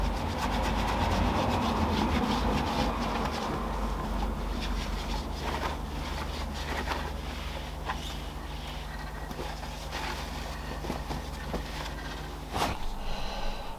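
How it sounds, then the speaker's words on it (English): Ceramic coating being rubbed onto the inside of a BMW M40i car wheel gives a steady, close scrubbing and wiping texture that continues almost throughout, with a few sharper knocks near the end. "That's the ceramic coating applied to the inside of my wheel."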